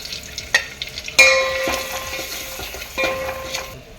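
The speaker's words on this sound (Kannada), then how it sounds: "ಎಣ್ಣೆ ಈರುಳ್ಳಿ ಹಾಕ್ತಾ ಇದ್ದೀನಿ ಸ್ವಲ್ಪ ಅಚ್ಕಾದ ಪುಡಿ ಹಾಕ್ತಾ ಇದ್ದೀನಿ" Onion and spice powder frying in oil in a pan for a mutton keema balls curry, a steady close sizzle with stirring clatter and a sharp burst as the powder hits the oil.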